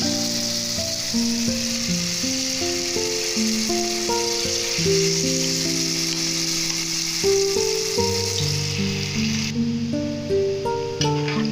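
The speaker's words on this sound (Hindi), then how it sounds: "हम 1 बाय 1 इसको फ्राई कर लेंगे" Batter-coated cauliflower pieces deep frying in hot oil give a steady, close sizzle and bubbling, with background music playing over it throughout.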